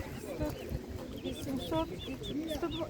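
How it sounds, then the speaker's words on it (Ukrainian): A broody hen clucks repeatedly nearby with her ducklings' high thin peeping chirps, at an animal market with people talking quietly in the background. "є квочка з качетками"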